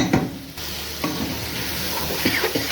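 Ingredients sizzle and are stirred in a hot pan while sautéing for lentil soup, a close, steady frying hiss broken by a few scraping stirs.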